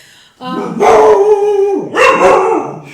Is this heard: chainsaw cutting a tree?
no